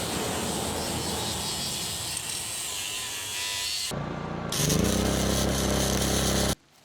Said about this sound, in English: I'm just going to grind everywhere where my welds are